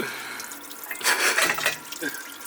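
Water rushing and splashing from a cut plumbing line in a garage during work on an S13 hatchback, a hissing gush that swells and fades with some dripping.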